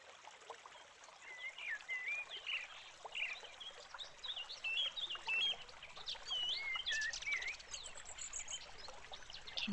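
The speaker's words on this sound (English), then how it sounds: "Can you hear the birds chirping?" Birds chirp and whistle in short, bright calls scattered over a steady wash of trickling creek water, fairly distant and soft.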